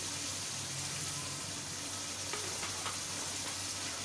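About a teaspoon of cumin seeds sizzle in hot oil in a pan as the base for beef biryani. The hiss is continuous and dense but fairly soft, with faint crackles near the end and no talking.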